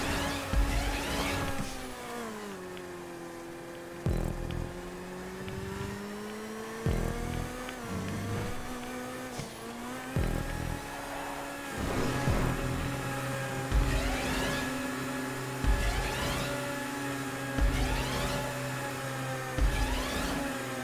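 A sports car engine revs hard through repeated gear shifts in a GTA 5 stunt race, its steady whine rising and dropping over about twenty seconds, loud and close with no talk over it.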